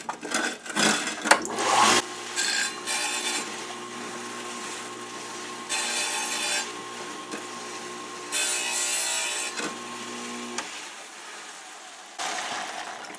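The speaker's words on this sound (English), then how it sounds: "I'm going to turn on the saw and sort of sand that down with the blade." A wet saw with a diamond blade grinds down the sharp edge of a glass bottle in several bursts of gritty scraping over a steady motor whine, close and moderately loud, with pauses between passes.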